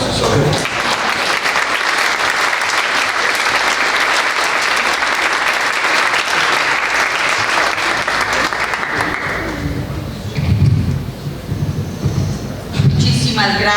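A conference audience at a law event on judicial reform in Mexico gives a loud, sustained ovation of dense clapping for about ten seconds, which then fades out, leaving scattered claps and voices talking.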